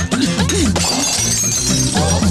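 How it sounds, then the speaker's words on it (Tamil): Glass shatters loudly in a bright, crashing burst that trails off into tinkling fragments, laid over a tonal, wavering background sound. "அந்த கண்ணாடி உடைக்கணும்னு தோணும்."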